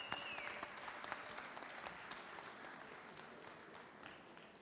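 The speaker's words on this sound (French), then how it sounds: "Applaudissements pour Pascal Baudin!" An audience applauds chef Pascal Baudin at a French cooking show event, with steady, moderately distant clapping from a crowd that holds evenly throughout and fades slightly at the end.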